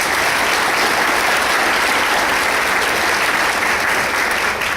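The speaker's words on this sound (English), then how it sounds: "give them a round of applause" A crowd claps loudly and steadily, dense applause filling the room without letting up.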